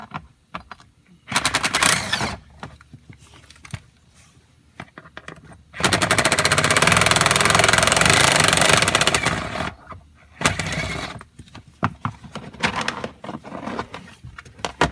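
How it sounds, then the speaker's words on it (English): A power tool buzzes in loud, rapid rattling bursts as it drives out 7mm screws from the passenger-side kick panel of a GM truck, with one long burst in the middle and shorter ones around it. "let's go ahead and remove the screws. You have 3 7mm screws that are holding this on"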